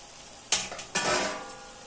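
Chopped hot chili and sweet bell peppers with onion frying in ghee and oil, stirred with a spoon against the pot: two sharp scrapes and clanks over a soft sizzle, close by.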